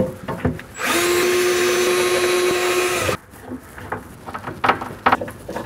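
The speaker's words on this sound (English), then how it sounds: "You can now drill and screw this into place." A power drill runs steadily for about two seconds, driving a screw to fix the arm of a corner organiser unit in place. It is loud and close, then stops abruptly, and softer handling knocks and clicks follow.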